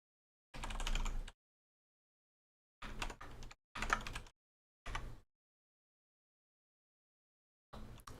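Someone types on a computer keyboard to log in, with short separate bursts of rapid key clicks broken by stretches of total silence, close and clear.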